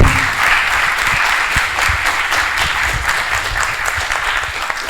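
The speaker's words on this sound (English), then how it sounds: "I would say a big applause to Oliver, Alan, and of course also Paolo for taking the time" Applause for conference speakers at a session of the Major Cities of Europe annual conference in Larissa, 2022: steady, dense clapping from a large audience, loud and continuous throughout with no talk over it.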